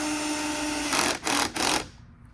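A power driver whirs steadily as it sets a wood screw into a JL Audio Fathom F112 subwoofer enclosure, then gives three short, louder bursts of buzzing before stopping. The sound is close and has no voices.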